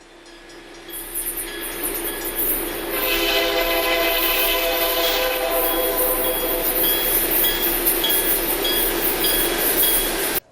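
Kansas City Southern freight trains from 1966, led by ABBA sets of diesel locomotives, rumble past loud and close, with a sustained horn blast and clinking, squealing wheels over steady rail noise.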